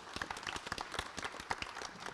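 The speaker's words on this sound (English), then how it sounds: "we can clap for her." Scattered, modest clapping from a small audience at a high school jazz concert, fairly quiet and uneven, with individual claps standing out.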